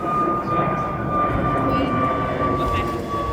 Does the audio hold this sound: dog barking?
no